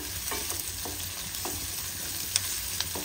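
Onions fry in a pan until golden brown for a Punjabi-style mixed vegetable dish, a dense steady sizzle close by, broken by light intermittent scrapes and taps of a stirring spoon.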